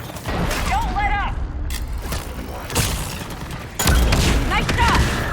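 Gunfire and heavy impacts from the combat video game Mass Effect 3, with sharp bursts and mechanical clatter over a dense battle din, a louder blast near the end, and voices calling out between the shots.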